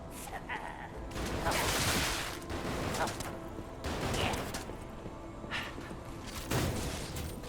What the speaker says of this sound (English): Heard some gunfire.